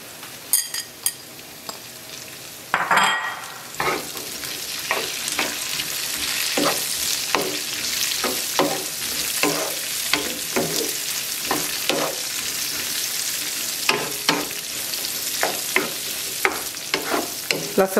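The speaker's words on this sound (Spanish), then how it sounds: "ya están bien doraditas las papas y la carne" Browned potatoes and ground meat fry in a pan, a loud close sizzle broken by frequent sharp scrapes and clinks of a utensil stirring the mixture throughout, with no voices.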